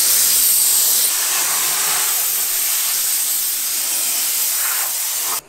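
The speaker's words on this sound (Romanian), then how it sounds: "Pentru exteriorul mașinii, toate curate și facem cu abur uscat." A dry steam cleaner cleaning a car's exterior at an eco car wash, a loud, steady, close hiss of steam spray with no talk.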